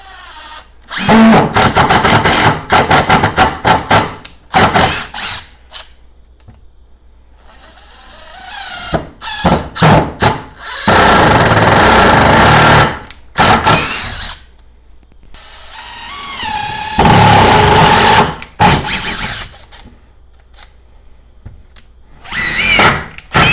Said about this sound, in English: let's throw in a couple of just regular screws here. I just want to get a feel for this impact driver